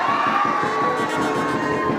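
A speech audience cheers and claps loudly in a continuous roar of crowd noise with rapid applause, sustained throughout.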